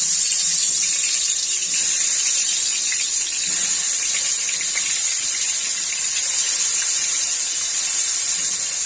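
Pieces of katla fish sizzle in hot oil in a wok, a steady, dense hiss and crackle of frying that runs evenly throughout with no talking.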